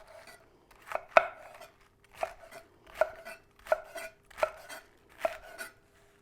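A kitchen knife chopping Napa cabbage leaves into chunks about 1.5 inches wide, heard as about seven sharp, close knife strikes on a cutting board at uneven intervals, with no talking.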